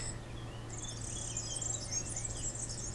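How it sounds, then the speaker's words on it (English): Birds chirp and trill outdoors in a steady high-pitched chorus, mixed with insect-like buzzing over a low constant hum. "You can hear the birds."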